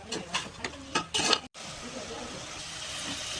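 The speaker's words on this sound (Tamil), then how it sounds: "நல்லா வதங்கிட்டோன்னு கிண்டிக்கிறோம்" Mint and coriander stirred into ginger garlic paste in a pan for a country chicken biryani: a few quick spoon scrapes, then a steady close sizzle of sautéing.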